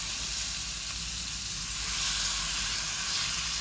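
Shrimp hitting a hot frying pan with garlic and black pepper, a loud, steady close-up sizzle and hiss that swells slightly midway, with no talking.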